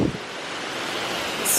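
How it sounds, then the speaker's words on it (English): Waterfalls splash into the resort pool area at the JW Marriott in Surfers Paradise, a steady, full rushing hiss that holds evenly throughout, close and fairly loud. "So many gorgeous waterfalls,"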